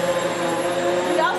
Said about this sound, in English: check out the Hoover Swivel XL Pet Vacuum